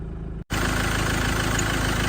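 Land Rover Defender 110 with a 2.4 Puma TDCi diesel, a 2009 station wagon, idling under the bonnet with a loud, steady, even rumble and a brief dropout near the start.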